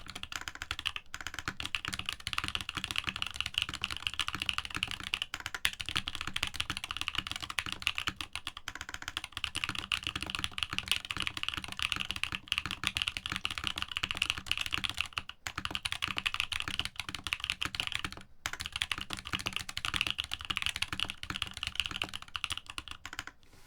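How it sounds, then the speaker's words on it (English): Fingers type on a keyboard fitted with tactile switches, producing rapid, continuous clacking keystrokes at close range with brief pauses, sustained for over twenty seconds without talk. "Sounds like a keyboard, not too bad."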